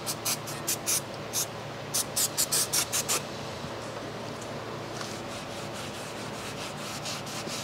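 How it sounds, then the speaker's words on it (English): Brake cleaner sprayed from a can onto brake parts during a brake disc change on a 2010 Land Rover Defender, a run of short hissing bursts in quick succession near the start, then a steady faint workshop hiss. "Brake cleaner."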